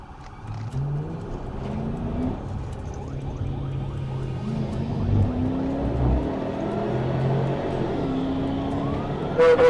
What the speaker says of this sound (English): The suspect drove west on Highway 412 at about 100 miles per hour.